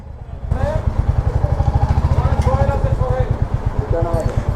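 A Royal Enfield motorcycle engine thumps in a fast, steady idle beat, close and loud, while a person talks over it.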